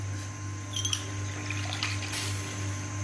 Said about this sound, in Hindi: ये या ठंडा पानी है। ये देखें, ये मैं डाल रही हूँ